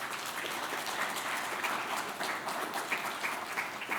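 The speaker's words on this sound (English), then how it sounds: "Please give a big round of applause for Sarah Walker." Audience at a Twenty in Their 20s awards event breaking into steady, dense applause, heard from within the crowd at moderate volume.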